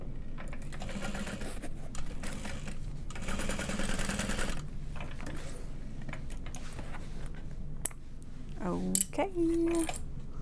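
A sewing machine runs in close, rapid bursts while basting down a square ring on a bag, the mechanical whirr mixed with light clicks and handling noises, with a voice briefly heard.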